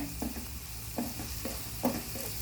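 Onion frying in a pan for methi chapati, a soft continuous sizzle broken by a few light, evenly spaced taps of a spatula, quiet and close, with no voices.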